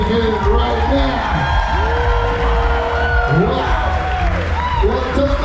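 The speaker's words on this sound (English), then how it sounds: "Ladies and gentlemen, give a big round of applause" An audience on a cruise ship applauds, whoops and cheers after an aerial performance, a loud, dense crowd roar with individual shouts and whistles rising above the clapping.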